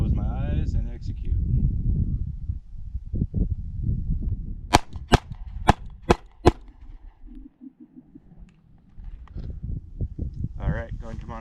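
Five sharp gunshots fired at a target during shoot-and-move practice, evenly spaced about half a second apart, loud and close, with someone talking before and after the volley.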